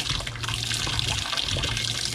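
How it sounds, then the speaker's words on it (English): Hot water runs steadily from a sink tap on a boat, a continuous splashing hiss close by with no voices. "I'm just going to run the hot water"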